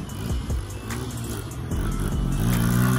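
A Honda XR100 four-stroke dirt bike engine runs up close, a steady mid-pitched drone that climbs slightly in pitch toward the end as it revs.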